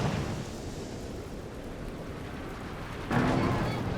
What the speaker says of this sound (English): The white phosphorus from the pack outs are coming down.